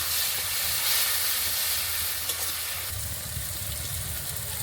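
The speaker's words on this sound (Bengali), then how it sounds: "জলটা দিয়ে আর একটু ভালো করে মশলাগুলো ভেজে নেব।" Spices fry in a pan with a splash of water, giving a steady close hiss and sizzle with faint crackles throughout and no talking.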